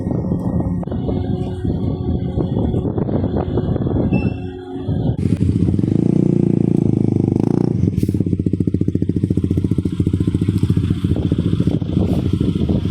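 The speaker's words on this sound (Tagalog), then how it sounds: "Dami mga motor niyan." Motorcycles rumble and rev loudly aboard a crowded passenger ship, their engines blending with clattering and scraping on deck in a continuous, dense wash of mechanical noise.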